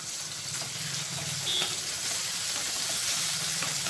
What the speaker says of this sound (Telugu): ఇందులో టమాటో ముక్కలు వేసుకుందాము. ఇది కొద్దిగా వేగిన తర్వాత ఆనియన్స్ వేసుకుందాము.